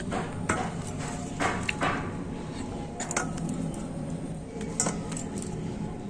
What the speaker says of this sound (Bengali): আমি এরকম সাইজে লেচি কেটে নিচ্ছি